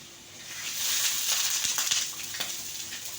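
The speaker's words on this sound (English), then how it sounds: "After egg, so we fry ham a little bit." Ham sizzles in a frying pan, a steady hissing fry with a few soft clicks and scrapes from stirring, fairly quiet and close.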